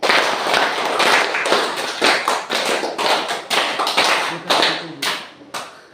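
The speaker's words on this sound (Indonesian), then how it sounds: "Coba tepuk 5, 3 kali. 1, 2, 3, mulai." A standing group of students in a classroom claps a counted rhythm pattern of five beats repeated three times, sharp dense claps in bursts with brief gaps, fairly close and loud, fading toward the end.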